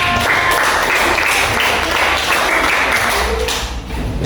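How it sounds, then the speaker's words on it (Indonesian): A classroom audience claps for a student group after their presentation during a teaching practice session, with dense, steady applause filling the room for a few seconds. "Beri tepuk tangan untuk kelompok Askar."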